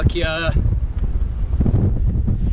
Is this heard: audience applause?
no